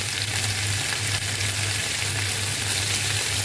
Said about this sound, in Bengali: এখন কিন্তু মশলাগুলো ছিটে উঠতেছে